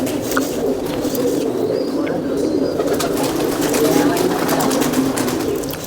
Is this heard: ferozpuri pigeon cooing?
yes